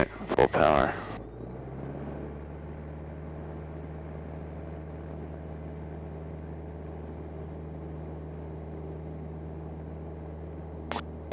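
A Cessna 172's piston engine at full takeoff power, a steady droning rumble filling the cabin after a brief loud burst at the start, holding evenly to the end.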